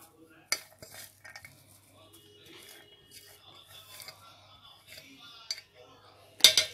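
A spoon gently mixes vegetable rice pulao with coriander leaves in a cooking pot, giving soft scattered scrapes and a few sharp metallic clinks, the loudest near the end.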